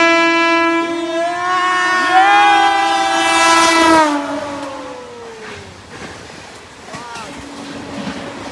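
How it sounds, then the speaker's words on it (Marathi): A train horn blows loud and long on an Indian railway as another train passes close by, the blast gliding down in pitch before giving way to rumbling wheels and rail noise, with a second shorter horn toward the end. "ही इकडे एक ट्रेन येते,"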